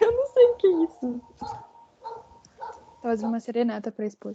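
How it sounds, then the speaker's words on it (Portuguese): A neighbour's dog barks and yips in the background, with short, mid-distance bursts spread across the clip, mostly beneath close conversation between people. "Tem um cachorro latindo no fundo também"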